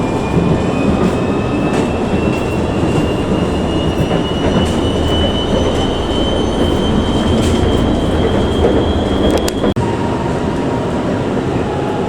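An LRT train pulls into Pandan Jaya station in Kuala Lumpur with a loud, steady rolling rumble and a long rising wheel squeal, ending in a brief clunk as it slows.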